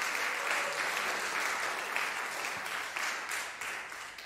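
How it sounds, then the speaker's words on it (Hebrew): Audience applause in a hall during an evening concert of Russian vocal music, steady dense clapping that holds at an even level for the whole stretch with no voices over it. "ואני חושבת שמגיע למחיאות כפיים"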